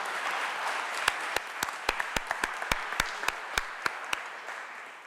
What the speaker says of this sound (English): I think he deserved a very, very big applause